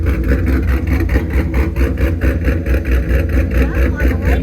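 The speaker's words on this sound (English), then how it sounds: "listen to the exhaust" The deep, rumbling exhaust of a 1997 12-valve diesel truck idles steadily close by, with a throbbing low-frequency pulse and exhaust rumble filling the whole stretch.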